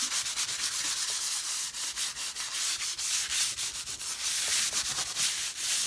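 Wadded material rubs and presses over a painted pumpkin in quick repeated scratchy strokes, a close, steady sanding-like rhythm with short gaps and no talk.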